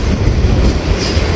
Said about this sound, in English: So a very short mixed freight train looks like it's going into Global 3.